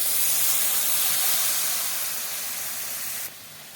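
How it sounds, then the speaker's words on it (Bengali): Water poured into a hot pan of cooking mourala fish with cholom leaves sends up a loud, steady steam hiss that fades slightly and then drops off near the end. "জল দিয়ে দিলাম।"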